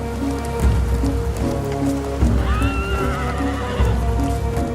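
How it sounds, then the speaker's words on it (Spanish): A horse gives a loud, close whinny that rises and then falls over steady rain and a low background rumble, with a faint clop of hooves. "El hecho de que los caballos pudieran montarse brindó a los europeos otra importante ventaja."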